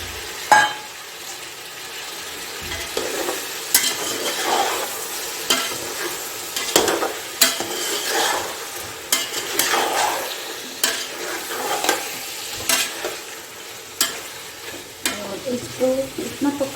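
Chicken pieces fry in a pot for biryani while being stirred, a soft sizzle beneath repeated sharp clanks and scrapes of a spoon against metal at an irregular rhythm, close up.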